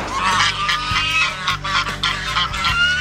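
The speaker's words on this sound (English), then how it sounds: "I thought I'd catch me a couple of ducks, just to pass and kill some time" Farm ducks or geese honk and quack loudly and continuously, a dense overlapping flock close by with no talking.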